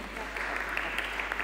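Audience applause at a public hearing in the Argentine Congress on burning in the Paraná Delta, a brief, fairly faint patter of clapping over a steady low hum.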